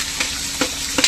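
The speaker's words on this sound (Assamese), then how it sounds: "সৰু আলু ভাজিব" Small potatoes frying in a pan, with a steady close sizzle broken by three quick scraping stirs, and no voices.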